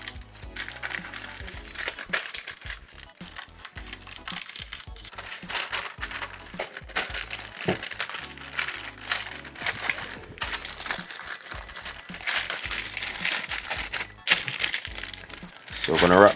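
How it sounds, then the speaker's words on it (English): Crinkling and rustling of grease paper and aluminum foil being folded and crushed around BBQ short ribs, continuous and close, with irregular crackles throughout. "So we're gonna wrap this up in our aluminum foil."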